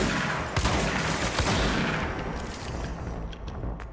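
Gunfire in Control rattles out as a dense, continuous volley of loud shots and impacts, tapering off slightly over a few seconds.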